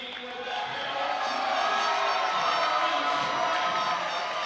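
A volleyball crowd at a men's college championship gold medal game cheers and roars for the player of the game, a broad sustained wall of crowd noise that rises and holds loudly throughout.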